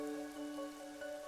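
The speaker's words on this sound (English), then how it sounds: "No one knows why the rain never lets up." Steady, unending rain falls over the city of Kanai Ward in the game Master Detective Archives: Rain Code, a soft continuous patter blended with a low sustained tonal hum and no voices.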